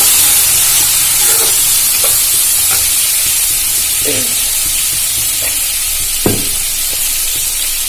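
A paste of chilli powder, Kashmiri chilli and turmeric frying in mustard oil for rui fish curry, a loud, dense hiss of sizzling with occasional scraping strokes of a stirring spoon, close by and without speech.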